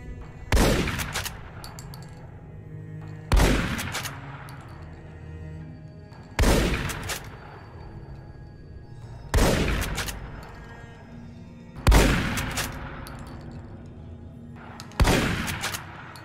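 Six loud shotgun blasts from Fallout New Vegas, each followed by a long, rumbling tail that fades away. The blasts come roughly every three seconds with no voices.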